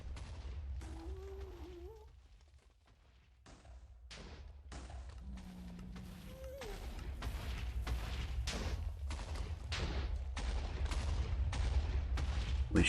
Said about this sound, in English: All the explosions should happen well out of range.